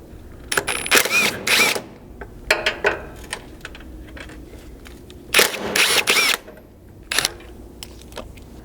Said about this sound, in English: you can remove the two fasteners holding each step mount to the body using a 12mm